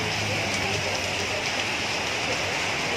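Heavy rain with strong wind in Tanah Abang, central Jakarta, a dense, steady roar of downpour and gusting air that fills the whole clip without pause.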